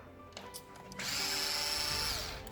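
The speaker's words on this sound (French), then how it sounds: "la première étape, ça va être de dévisser ces 3 vis au niveau du carter" A power screwdriver removes the three casing screws of a CTS tool during maintenance: a few light clicks and taps, then a steady close motor whir for about a second before it winds down, with no one speaking.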